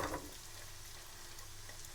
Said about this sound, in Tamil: இப்போ இந்த இவ்வளவு சின்ன வெங்காயமும் போடுறேன்